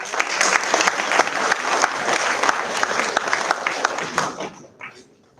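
Audience applause for dignitaries at the inaugural session of a college event, a dense steady wash of many hands clapping that carries on for several seconds before tapering away at the end.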